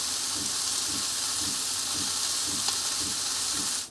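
A 21-day matured rump steak frying in a pan at a van campsite, giving a loud, continuous hissing sizzle with a faint pulsing crackle underneath, steady throughout and cutting off abruptly at the end.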